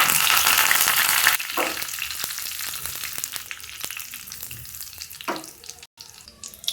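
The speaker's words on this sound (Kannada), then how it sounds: "ಈಗ ಈ ಚಟ್ನಿಗೆ ಒಗ್ಗರಣೆ ಹಾಕ್ಕೊಳ್ತಾ ಇದ್ದೀನಿ." Mustard seeds and curry leaves are tempered in hot oil for a village-style horse gram chutney. A loud, dense sizzle opens the sound, then it settles into a softer steady fizz with scattered pops and stirring clicks, with a couple of brief hisses flaring up.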